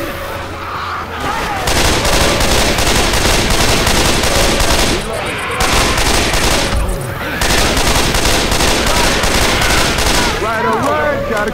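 Rapid automatic gunfire from the Left 4 Dead zombie shooter game, loud and sustained in dense bursts with two brief pauses, mixed with game effects and faint voices underneath.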